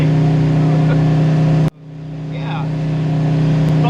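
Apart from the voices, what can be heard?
truck engine at 3,800 RPM driving down the interstate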